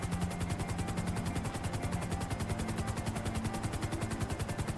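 A helicopter flying in Grand Theft Auto, its rotor producing a steady rapid chopping throb with a continuous engine whine, loud and constant throughout with no talking.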